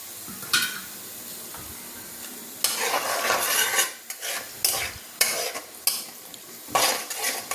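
Beaten eggs for egg fried rice frying in a hot pan, with a sizzle under repeated bursts of stirring and the spatula clattering against the pan, loud and close, with no talk.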